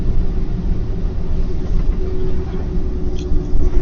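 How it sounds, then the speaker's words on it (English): Steady road traffic rolls past in a snowy setting, a continuous low rumble of car engines and tyres with slight swells as vehicles go by, fairly close and without talk. "Well, at least traffic seems to be moving pretty good right now."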